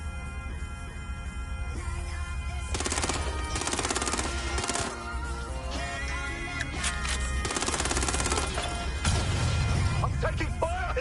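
Machine gun fire rattles in Watch Dogs: Legion in repeated long automatic bursts with scattered impacts and crashes between them, while a voice talks under the shooting.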